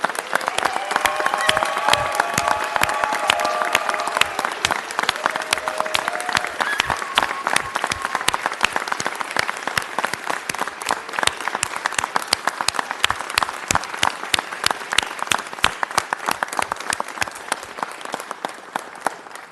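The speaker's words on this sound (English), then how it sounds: "Let's rise and give a round of applause" A city council chamber audience gives a long standing ovation, dense sustained clapping filling the room for about twenty seconds, with a few voices and cheers rising briefly in the first seconds.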